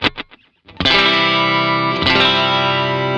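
Clean electric guitar from a Fender Telecaster through a stereo Vox AC30 setup: a few muted picked notes, then two bright sustained chords ringing out loud and close.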